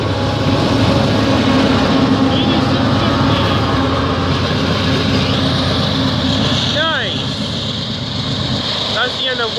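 A CP freight train rumbles steadily past at close range with a distributed power locomotive mid-train in Foley, Ontario, a dense continuous engine drone and rolling clatter, with brief higher squeals toward the end.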